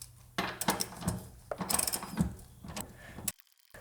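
A ratchet turns a 21 millimeter nut on a 2008 Chevy wheel, with close, quick clicking pawl bursts and metallic knocks over a few seconds, ending in a sudden stop.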